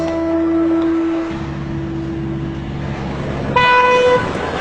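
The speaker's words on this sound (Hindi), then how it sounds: "इतना हॉर्न क्यों बजा रहे हो?" A loud car horn blares in sustained tones, then a second, higher horn joins briefly near the end over steady engine and traffic noise.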